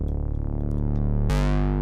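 Thick synth bass built from a saw wave and a square wave, each dropped an octave, droning steadily before a bright, fuller tone cuts in abruptly near the end.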